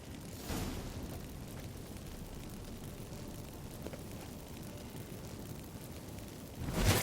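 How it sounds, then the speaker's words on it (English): Magic fireworks burst from activated incense in The Witcher 3: Wild Hunt, a loud whooshing eruption at the start, a steady rumbling hiss through the middle, and a second heavy boom at the end, with no talking. "Get ready for some magic fireworks. Once I activate the incense"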